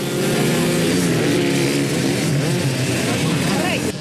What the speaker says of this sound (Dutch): De motoren werden zoals dat hoort door de burgemeester weggeschoten.